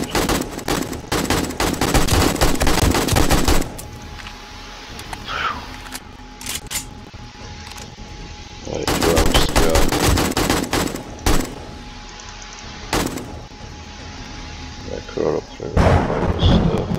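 During a horde night in 7 Days to Die, loud bursts of rapid automatic gunfire come in several long volleys separated by quieter stretches with scattered single shots.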